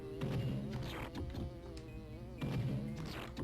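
Insect-like buzzing from the bees in the Donkey Kong 64 video game, a steady droning hum with rising swells, loud and continuous, accompanied by game music.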